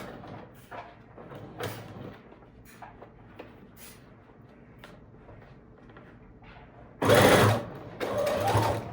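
Sewing machine stitching the corner of a dining room chair slipcover, with quiet handling and shifting sounds before a loud, close burst of machine stitching near the end, then a second run.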